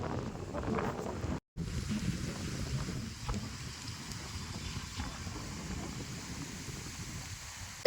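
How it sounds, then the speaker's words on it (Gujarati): Strong wind blows steadily and roars into the microphone, with gusty rumbling throughout and a brief dropout near the start. "કેટલો પવન સુસવાટા મારે હે."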